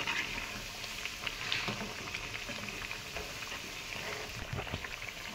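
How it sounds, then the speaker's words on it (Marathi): Kothimbir vadi, coriander fritters, frying in hot oil give off a steady, soft crackling sizzle with fine patter and bubbling, even and unbroken at close range. "1-2 मिनटं आता फक्त तळून घेऊया आपण"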